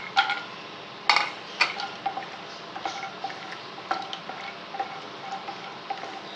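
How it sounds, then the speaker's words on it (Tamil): Cashews roasting in melted ghee in a pan for wheat flour halwa, with a spoon stirring them in light, irregular ticking clinks against the metal over a faint steady background. "இதில் வந்து நம்ம முந்திரியை வறுத்து எடுத்துக்குவோம்"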